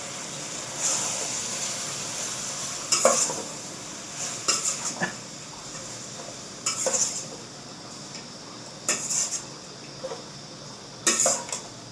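Salted chicken curry sizzles in a pan beneath periodic bursts of stirring, with a spoon clinking and scraping against the metal several times over a steady low frying hiss.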